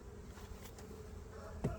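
Honey bees hum at an open hive, a soft continuous buzz with a faint rise near the end, heard up close in a quiet setting.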